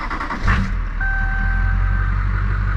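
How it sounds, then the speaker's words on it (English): A diesel Chevrolet Silverado pickup with over 200,000 miles fires up and settles into a steady, loud low rumble, with a brief burst at the start and a thin beeping tone over the idle. "Let's listen to that diesel goodness, boys and girls."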